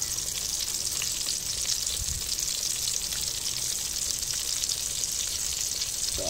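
Bangus fish steak frying in a pan, with a loud, dense, steady hiss of sizzling oil that runs unbroken from start to finish, with no talking.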